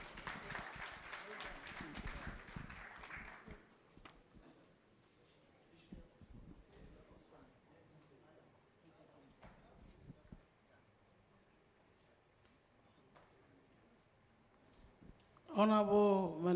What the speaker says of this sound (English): Shall we receive him with a round of applause?